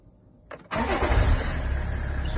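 A Range Rover P38 with an M57N diesel engine conversion cranks briefly, then catches and starts, settling into a loud, steady diesel idle close by.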